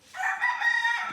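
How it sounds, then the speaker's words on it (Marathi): A rooster crows once in the Konkan countryside during an outdoor film shoot, a single loud, sustained call lasting about a second with no voices. "प्रथम ॲक्शन आणि त्याच कोंबड्याची आरोळी आणि त्याचबरोबर कुणालची मस्ती सुरू झाली."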